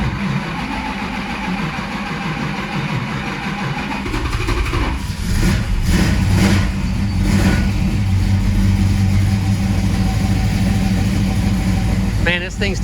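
1972 Dodge Charger engine cranking and catching, then revving and settling into a rough idle up close, with a person talking over the engine noise at times.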